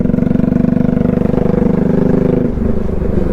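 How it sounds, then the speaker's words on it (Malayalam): A Bajaj NS 200 motorcycle fitted with a full system exhaust revs up close by, producing a loud, deep, bassy, rapidly pulsing engine note that holds steady and then drops off near the end. "ഇച്ചിരി ലൗഡാണെന്നല്ല ഭയങ്കര ബാസിയായിട്ടുള്ള സൗണ്ടാണ്"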